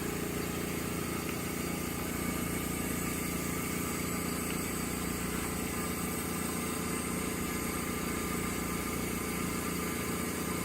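A Laurell WS-400B spin coater spins steadily at 1,000 RPM, giving a continuous, even mechanical hum and whir with a low motor drone that holds at constant loudness throughout, with no voices.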